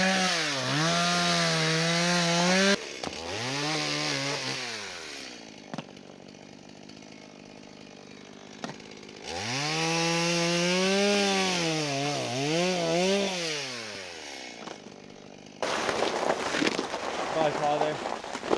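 A chainsaw cuts firewood outdoors in a forest setting, revving up and bogging down in two long, loud passes separated by idle gaps, with rustling at the end.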